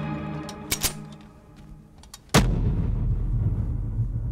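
Gunfire in a battle scene from an anti-Japanese war drama: a few sharp, close shots ring out, then a heavy blast breaks into a loud, sustained roar of firing that continues to the end.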